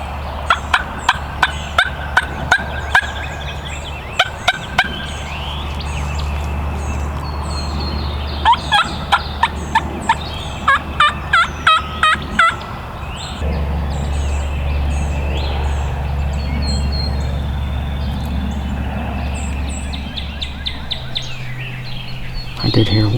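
Wild turkey gobblers on Tennessee public land gobble repeatedly at dawn, with sharp rattling gobbles recurring in bursts at a moderate distance over a low steady hum, and a voice speaks quietly at times.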